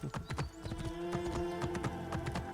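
Rapid clip-clop of horse hooves at a trot in Assassin's Creed Discovery Tour, close and rhythmic, with a steady tonal hum beneath and no talk.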